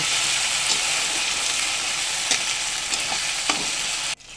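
Ginger-garlic paste sizzles steadily in a hot pan, a dense continuous hiss with occasional soft scrapes of stirring, close and loud, with no voices, before the frying abruptly cuts off near the end.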